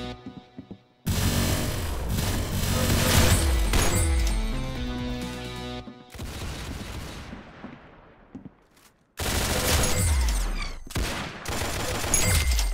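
Video game gunfire crackles in dense bursts of loud shots and rapid volleys with reverberant tails, separated by brief silent gaps, with no talking.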